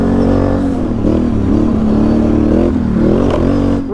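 Can-Am V-twin ATV engine revving on a trail, loud and close, with a steady throaty drone that rises and dips as the throttle changes.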